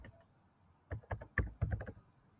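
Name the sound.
typing on a computer keyboard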